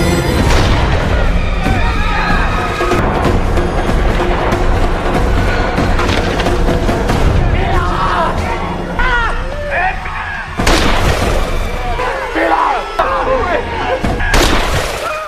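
Landmine blasts in a Rambo war film: a dense, loud barrage of booming explosions and crashing debris fills the whole stretch, with sharp bursts of shattering near the end and no letup between hits.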